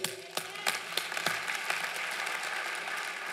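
A church congregation applauds, a few louder claps at first settling into a soft, even patter of many hands, fairly quiet and distant.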